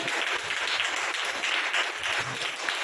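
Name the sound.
applause, clapping in praise of God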